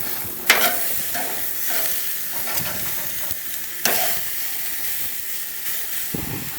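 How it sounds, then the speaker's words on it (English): Steaks searing on a grill, a constant loud sizzling hiss with a few sharp crackles and clanks of handling, no talk. "now that we've been searing it for a little bit, let's go ahead and let's flip them and put them on the other side"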